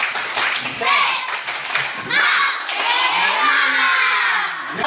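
Elementary schoolchildren in a classroom clap in rhythm while chanting a spirited clapping call. Their bright, loud voices shout and sing in unison over the claps, with rising and falling chant phrases close by.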